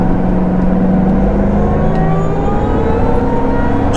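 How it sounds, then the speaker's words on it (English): 2008 Shelby GT500 engine giving a brief throttle blip while driving, a loud close rumble with rising and falling harmonics over road noise, no talking. "Just a little blip of the throttle is all you need."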